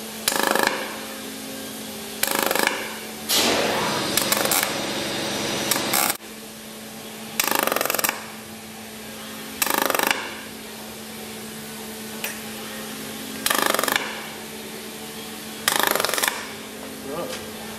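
Pulse welding on metal, heard as repeated short buzzing bursts of a second or so separated by a steady hum, loud and close, with a voice at times.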